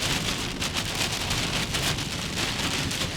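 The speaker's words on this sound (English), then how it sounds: "You can hear the rain. I'm sure you can hear the rain." Heavy rain pours down during a tornado warning, a dense, loud and constant hiss of drops with no pauses.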